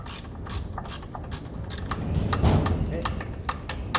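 Bolts being loosened with a ratchet on a 1954 Ferguson 20 TEF diesel tractor, a run of quick clicking ratchet strokes close by with voices talking underneath.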